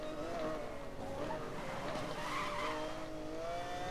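A car in Need for Speed: Most Wanted drives steadily with a droning engine tone, and tire skid squeals rise briefly over it midway through.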